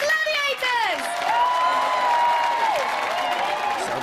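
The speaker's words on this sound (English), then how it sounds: "Big round of applause. Massive round of applause." Studio audience applause and cheering for Gladiators contestants at a live TV competition event, a broad sustained crowd roar heard under loud overlapping speech, with a voice rising and falling across the noise.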